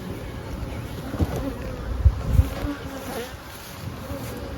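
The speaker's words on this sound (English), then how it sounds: "This is full of bees, look at that." Close, continuous buzzing of many honey bees around a hive, with a few soft bumps and handling sounds mixed in.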